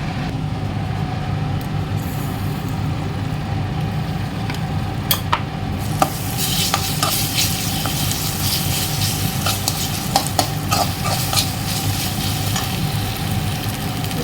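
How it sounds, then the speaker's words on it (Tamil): Onions sizzle steadily in a hot pan as ginger garlic paste goes in for an egg gravy, a continuous close frying hiss with scattered crackles and pops, alone with no talk. "இப்போ வெங்காயம் வதங்கிடுச்சு. இப்போது இஞ்சி பூண்டு பேஸ்ட்டு போட்டுக்கலாம்."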